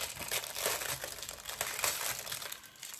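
Packaging around diamond painting accessories is torn open and crumpled, giving a continuous close crinkling and rustling of plastic wrap for a few seconds with no talking.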